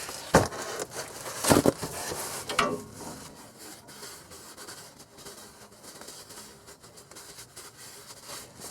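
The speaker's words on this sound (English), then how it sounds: "I'm gonna take a Scott's towel and wipe it" A Scott's paper towel wiped across a surface in a few brisk, close rubbing strokes over the first three seconds, followed by a quieter stretch of faint background noise.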